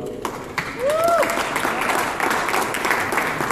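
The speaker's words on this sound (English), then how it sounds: "give them a round of applause too." Audience applause at a Charleston University gathering welcoming new employees, a dense crowd clapping that swells after a moment and holds steady and loud, with a brief whistle or cheer rising over it.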